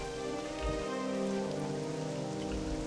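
Steady rain falls outside on a rainy Friday, a continuous soft patter on surfaces that holds even and moderately loud throughout with no talking.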